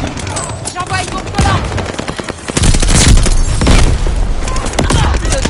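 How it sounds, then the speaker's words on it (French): Flying bomb exploding in a video game amid dense rapid gunfire, loud booming bursts building into a heavy continuous barrage. "J'utilise une bombe volante."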